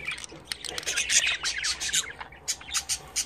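Harsh, energetic budgerigar squawks and chirps repeat in quick bursts, close by, with a busy run of calls through the whole stretch.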